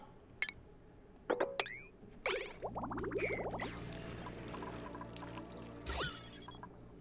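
Water pours into a tank in the video game Merry Moonbase, a rising gurgling fill that swells after a few sharp clicks and then runs on as a steady liquid rush.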